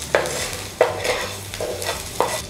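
Green chilli and mustard seeds fry in a pan with asafoetida, a constant sizzle punctuated by three or four sharp spoon scrapes against the pan.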